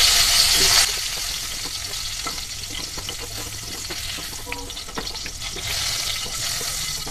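Sliced pointed gourd (potol) frying in hot oil for Bengali doi potol, a steady, close sizzle with a brighter hiss at the start and end and light stirring scrapes, no talking.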